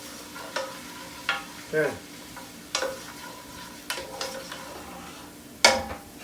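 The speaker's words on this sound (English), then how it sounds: "This is our tomato paste that we did process, and then give it a stir." Tomato paste is stirred in a pan of food for a shrimp dish in lobster cream sauce, giving a few separate scrapes and clinks over a faint sizzle, close and moderately quiet, with one brief spoken word.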